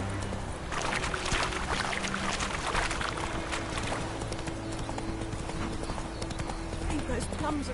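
Hooves of a galloping horse in The Witcher 3 clatter rapidly and steadily over ground in a constant rhythmic patter, with a voice speaking over the hoofbeats.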